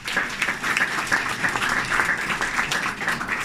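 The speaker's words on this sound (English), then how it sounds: "That applause was for you." Audience applause at an outdoor arts wall ceremony as the mayor is introduced, a sustained patter of many hands clapping at moderate volume with no talk over it.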